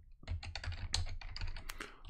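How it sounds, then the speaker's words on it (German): Someone types a password on a computer keyboard: a rapid, uneven run of close, crisp keystrokes clicking steadily for about two seconds, with no talking. "Jetzt nochmal das Passwort eintippen."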